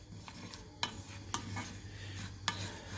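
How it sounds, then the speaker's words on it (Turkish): Dry sesame seeds being stirred and toasted in a plain pan for a molasses-and-sesame sweet, with soft scraping and a faint sizzle broken by a few sharp utensil clicks against the pan. "Susamlarımızı böyle tavaya sade bir şekilde koyuyoruz."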